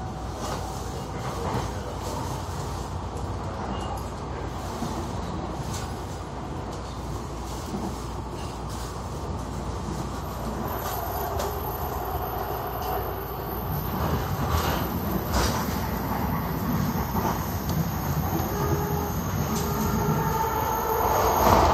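A MARTA subway train runs along the track with a continuous rumbling roar, wheel noise and faint high squeal, building slightly louder in the latter half while riding inside the car.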